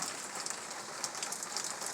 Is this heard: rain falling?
yes